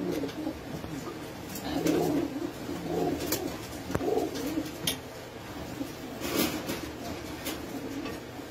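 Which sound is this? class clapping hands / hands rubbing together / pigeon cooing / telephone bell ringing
pigeon cooing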